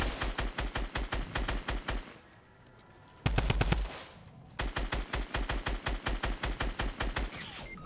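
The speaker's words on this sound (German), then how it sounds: "er schießt auch die ganze Zeit da" Enemy gunfire in Fortnite, with long rapid bursts of automatic shots in a steady rhythm, a pause, a short loud volley, then another sustained burst, loud and with no talking.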